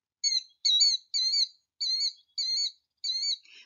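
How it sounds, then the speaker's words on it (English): A killdeer gives a series of six shrill, high chirping calls at a steady rhythm, clear and alone against silence. "Scientists actually named the birds after the sound that they make, like the killdeer."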